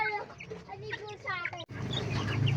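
Jersey Giant heritage chickens about six weeks old cluck in a backyard flock, steady soft clucks running through with people talking nearby.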